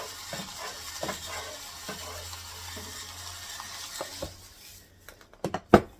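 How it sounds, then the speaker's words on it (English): Cut pieces of taco shell are tossed and mixed with salt in a bowl, producing soft scraping and rustling that ends in a few louder knocks and clatters close by. "And I'm going to mix that together pretty good to get the salt all over all of them."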